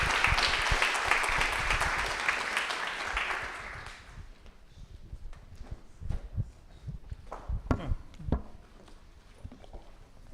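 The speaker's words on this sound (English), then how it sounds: "maybe a round of applause for the speakers" An audience at a conference on rail resilience to climate change applauds the speakers: dense clapping for about four seconds that stops abruptly, followed by scattered footsteps, knocks and shuffling in the room.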